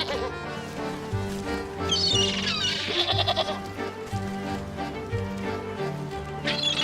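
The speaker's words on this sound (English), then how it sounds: "There's a sheep around here that we need to get wool from." Sheep bleating in the video game Wytchwood, several wavering bleats rising over a steady layer of game music, fairly loud and close, with no talk.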